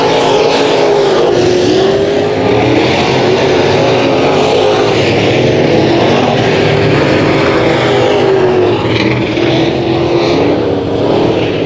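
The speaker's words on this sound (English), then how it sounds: "The Herminator through turns 3 and 4 in the number 36 machine will exit turn number 4" Dirt track race cars roaring through turns 3 and 4 at Kern County Raceway during a heat race, a loud continuous engine drone with overlapping cars and slight swells in pitch, close and dense throughout.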